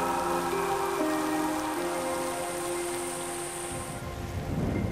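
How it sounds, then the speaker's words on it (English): Heavy tropical rain pours down steadily with rumbling thunder as the wet season breaks after a long dry spell, carried on warm northwesterly winds; a broad continuous wash of loud rainfall with low rolling thunder beneath. "Warm northwesterly winds and tropical rain bring welcome relief to the parched earth."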